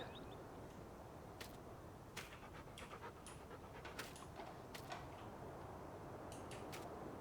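A dog panting in the farming video game Farming Simulator 19, rapid steady breathy huffs running the whole time, quiet and close, with a few faint ticks and clicks over it and no talk.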